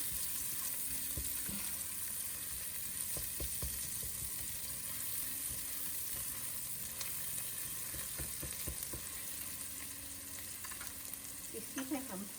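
Sliced onions sautéing in oil in a pan for shrimp fried rice, a steady soft sizzle with occasional stirring scrapes and clinks.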